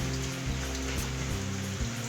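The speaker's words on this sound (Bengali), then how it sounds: "কাল সারা রাত ধরে বৃষ্টি এখনও চলছে বৃষ্টি" Steady rain falls outside after a whole night of rainfall, a close, constant patter on surfaces with no break and no voices.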